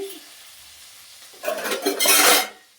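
Chopped onion and curry leaves are sautéed in a pan for onion rice. A quiet start gives way to a brief, loud burst of sizzling and stirring scrapes that fades out.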